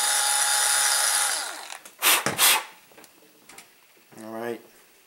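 A power tool reams out the link holes on an Align T-Rex 450L Dominator helicopter's defective DFC links. A whirring grind runs for about a second and a half, then come a few short bursts, with a brief voice near the end.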